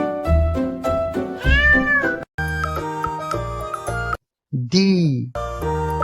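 A cartoon cat meows several times in a children's alphabet rhyme, the calls rising and falling over a bright musical backing with a voice sometimes speaking.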